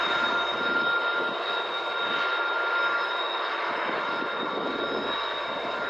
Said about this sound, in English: This train's lead engines are both SD70 Aces.